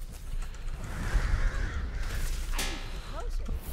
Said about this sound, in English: I can hear the crows.